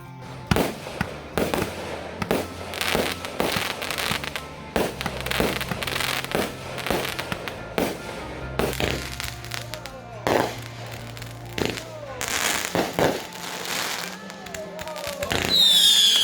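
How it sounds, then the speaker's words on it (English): Small backyard fireworks pop and crack in a rapid, irregular string at dusk in the countryside on the Fourth of July, loud sharp bursts followed by a whistling rise near the end. "We're going to start off with some of the small fireworks, just playing around, and then we'll move up to the big stuff."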